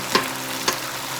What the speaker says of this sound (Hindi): ज़बरदस्ती सिजलिंग साउंड आ रही है।